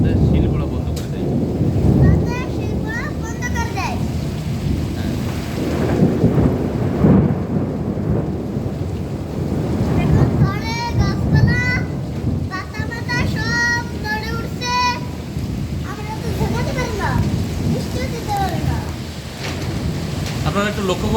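A thunderstorm with rain and hail in Keshabpur rumbles with heavy, continuous downpour and deep thunder, while people talk loudly over the storm.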